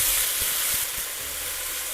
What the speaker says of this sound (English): let's fry the meat.